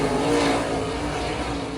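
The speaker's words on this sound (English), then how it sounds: "Race cars out now." Sprint race cars roll out for hot laps at the inaugural Kubota High Limits Sprints in Kentucky, their engines a dense, steady roar filling the air without distinct passes.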